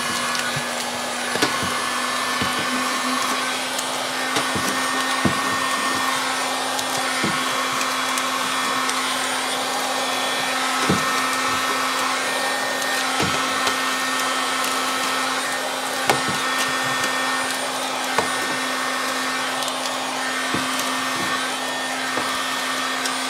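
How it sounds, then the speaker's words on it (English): A heat gun or hairdryer blows steadily to soften and lift tape off a guitar body, a continuous whooshing hum with a faint tonal drone and small scattered clicks and taps throughout. "So that hairdryer is, or heat gun, is a really good hint for getting your tape off"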